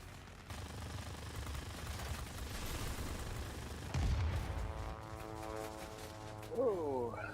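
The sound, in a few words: aircraft machine gun fire in World of Warplanes video game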